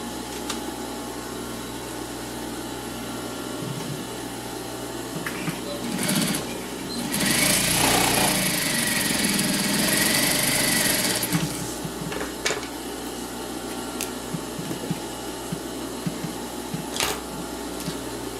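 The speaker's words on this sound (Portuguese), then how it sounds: "nesse viezinho de cima eu vou passar uma costura na beiradinha" A sewing machine stitches along the edge of a bias binding on a small zippered pouch, running in a steady mechanical whir that swells louder for a few seconds mid-way, over a constant background hum.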